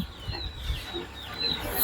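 Native country chickens and roosters on a farm cluck faintly against a steady outdoor background, their soft calls scattered across the short stretch rather than loud or close.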